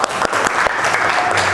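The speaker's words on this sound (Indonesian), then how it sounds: "Tepuk tangan." Students in a vocational high school classroom applaud together, a dense steady patter of many hands clapping close by, with a few sharper claps standing out throughout.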